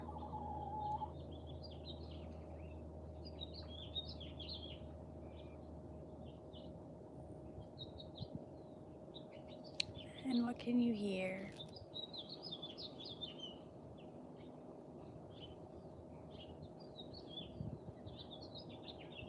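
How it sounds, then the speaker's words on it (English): Faint birds chirp and tweet on and off in the distance outdoors over a low steady hum from a pool circulator, with a person briefly speaking midway. "Mostly birds."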